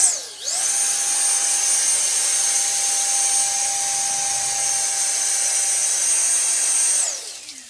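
A Ryobi handheld leaf blower spins up, holds a loud, steady high-pitched whine for several seconds, then winds down.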